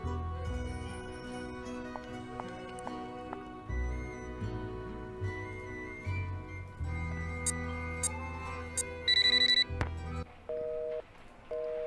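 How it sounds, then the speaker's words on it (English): Nancy Drew: The Phantom of Venice pager beeps in a video game, several bright electronic beeps and chirps over a soft musical background, some short and repeated, others held briefly. "Pager beeps."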